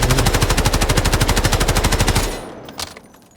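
Fast, steady automatic bursts from a CI-19 rifle in the video game Delta Force, loud and close, cutting off after about two seconds into a short tail with a faint click.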